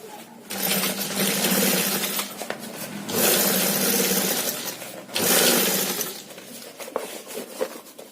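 A sewing machine stitches around the edges of a homemade tiffin bag in bursts, running loud for a few seconds at a time with short pauses between seams.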